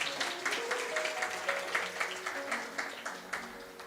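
A church congregation claps in thanks during a Hindi sermon, a moderate, steady patter of many hands at middle distance that carries through the whole stretch without any voice over it.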